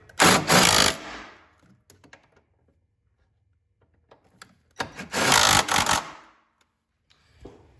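Impact wrench driving 15 mm engine mount bolts on a Fiat 500 Abarth, two loud close bursts of about a second each with a quiet pause between and small clinks of tools around them.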